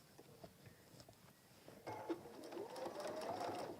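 A sewing machine stitches a messenger bag, starting with a few quiet, scattered sounds, then settling into a louder, steady whirring run for the last couple of seconds, close by.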